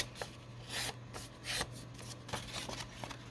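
Folded paper is trimmed up close, giving a series of soft, irregular rasping cuts and rustles, several brief strokes spaced unevenly with a low steady hum underneath.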